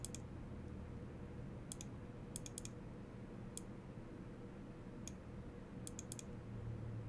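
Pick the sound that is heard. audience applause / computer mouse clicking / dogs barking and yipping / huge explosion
computer mouse clicking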